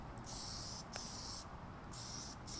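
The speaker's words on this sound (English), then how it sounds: "So you just want to continue to spray, and get that nice wet coat." Plasti Dip sprays from an aerosol can onto Kia car wheels in four close, steady hissing bursts with short pauses between, over a faint background hum.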